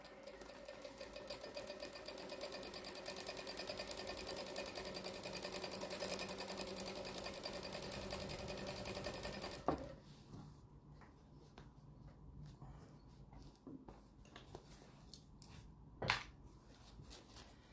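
A sewing machine stitches a strip tote bag made from jelly rolls, a loud continuous whir for about ten seconds that then stops, leaving quiet handling clicks and small taps of fabric and machine.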